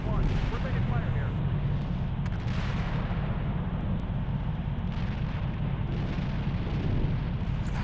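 Incoming fire in the Steel Beasts Pro PE tank simulation: a steady, dense rumble of distant blasts and gunfire rolls on without pause for the whole stretch, with radio voices talking over it.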